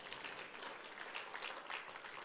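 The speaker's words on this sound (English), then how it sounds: "You need to give a round of applause for this." Audience applause at a business seminar, a steady wash of many hands clapping at a faint, distant level with no voices over it.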